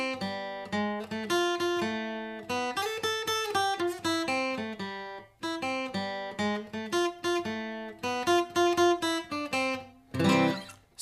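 Guitar plays the closing phrase of the Super Mario theme, a bright sequence of plucked notes and chords in bouncy rhythmic bursts with short pauses, ending on a strummed chord; no talking.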